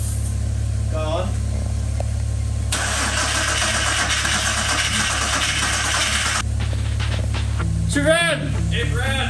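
A turbo Ecotec engine on a dyno sputters briefly to life on brake cleaner, a loud, rough burst of firing over a constant mechanical hum, with people talking nearby.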